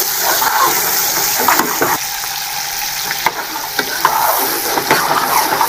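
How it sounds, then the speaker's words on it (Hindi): Chicken fries with green chillies in a handi, a loud, dense sizzle with crackling oil and occasional stirring scrapes running steadily throughout. "चिकन हमारा फ्राई होने वाला है।"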